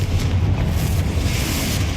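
A Confringo fire spell bursts in Hogwarts Legacy as a steady, dense low rumble with a booming roar that holds at a constant level for two seconds.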